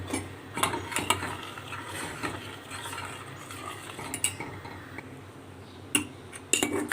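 Custard being stirred into milk at a full boil in a pot, a steady scraping and clinking of a spoon against metal with soft bubbling underneath, continuous at moderate loudness with a few sharper knocks.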